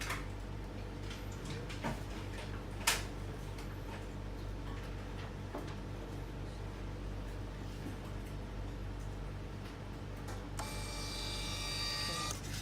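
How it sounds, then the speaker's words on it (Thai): A NITA iSH58 two-inch thermal receipt printer, sent a job over Wi-Fi from an iPhone, whirs faintly under steady background hum before a brighter buzzing feed burst near the end, with a single sharp click early on. "ตัวไอโฟนก็สั่งพิมพ์ผ่าน Wi-Fi ได้นะคะรวดเร็วเลยค่ะ"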